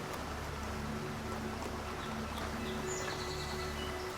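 Steady rain falls outdoors as a quiet, continuous hiss, with faint bird chirps and a low hum underneath and no talking.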